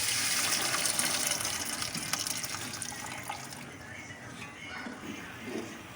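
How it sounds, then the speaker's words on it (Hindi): Boiled chickpeas tipped into a pan of masala for Lahori-style cholay, with a steady wet pouring and splashing rush that eases off gradually and continues without a break. "तो ये देखिए मैंने इसमें डाल दिए हैं चने।"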